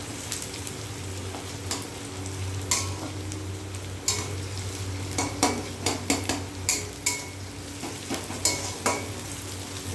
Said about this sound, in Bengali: পেঁয়াজটা হালকা ফ্রাই হোক, বাদামি কালার চলে এলে তারপরে মশলাগুলো দিয়ে দেবো,